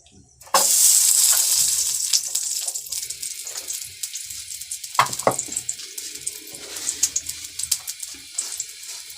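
Ghee sizzling in a pan while bajra ladoo are made, with a sudden loud hiss that fades into a steady crackle, plus a few scattered clinks and stirring sounds.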